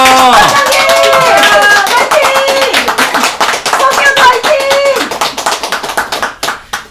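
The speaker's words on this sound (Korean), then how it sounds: "박수 소리에 잠에서 깼답니다." Audience applause, many hands clapping loudly and fast under shouting voices at first, then thinning into scattered claps that fade out near the end.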